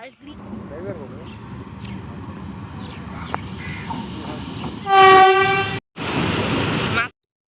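A Vande Bharat train rushes past near a shortcut road, a loud horn blaring for about a second before the roar of the passing cars, with background chatter earlier.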